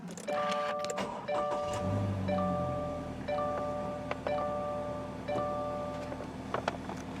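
A 2021 Subaru Crosstrek Sport starts at the push of a button, with repeating electronic chime tones over a steady idle hum that settles in partway through. The sound is close and moderately quiet.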